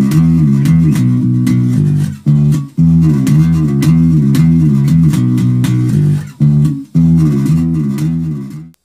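Bass guitar playing the Locomotive Breath part in a home cover recording: a steady, driving line of repeated low notes with sliding pitch moves, loud and close, with a few short breaks.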